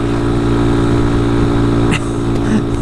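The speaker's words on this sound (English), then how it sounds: "The thumper, little one-cylinder engine," Honda Grom with a small one-cylinder engine thrumming steadily and loudly at constant revs while riding, a dense vibrating drone with a few brief sharp knocks near the end.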